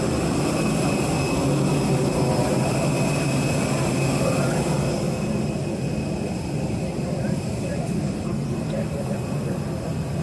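A jet airliner's engines drone loudly and continuously on the ground at Ahmedabad airport, a steady broadband roar heard close by with a faint high whine, while people talk over it.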